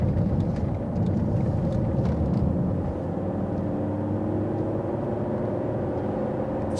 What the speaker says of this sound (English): Five-cylinder engine.